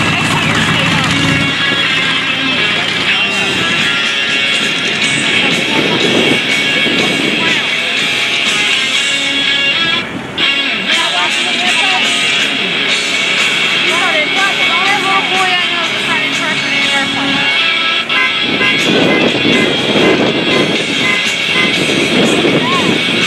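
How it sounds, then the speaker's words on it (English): An L-39 Albatros jet settling onto the runway at the Culpeper Air Fest, a steady whining jet roar heard at a distance under near-constant announcer commentary through loudspeakers. "he settles the L-39 right back onto the runway"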